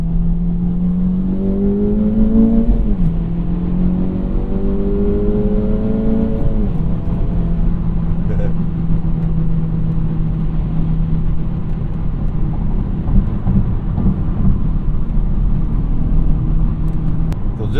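Acura Integra Type S cruising on a smooth paved road in Sport Plus mode with a Civic Type R damper module fitted, steady engine drone with a couple of brief rev shifts early on, continuous interior rumble throughout.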